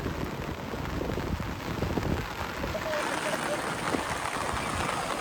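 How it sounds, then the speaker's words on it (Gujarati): Steady monsoon rain falls throughout in Morbi, a dense hiss of drops on surfaces with a broad, even wash of sound and no talking. "જો અત્યારે વરસાદ ચાલુ વરસી રહ્યો છે"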